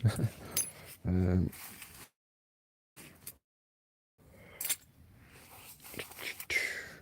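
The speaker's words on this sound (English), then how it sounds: "Door key, I'm going to need that." Door keys jangle and clink close by in a garden camping spot, a short metallic rattle between quiet gaps, with someone talking softly around it.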